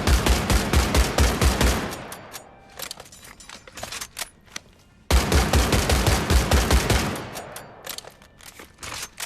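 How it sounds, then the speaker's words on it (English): A Gewehr semi-automatic rifle in Medal of Honor fires rapidly in two loud, close bursts of sharp, evenly spaced shots, separated by a short gap with a few scattered clicks. "rapidly firing the Gewehr's entire magazine will cause its accuracy to go wild"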